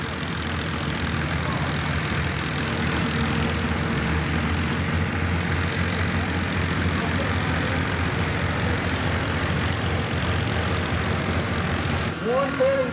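Farmall F-30 tractor engine roaring steadily at a 1995 Madisonville, Kentucky 6,000 lb Super Stock tractor pull, loud and continuous with crowd noise around it.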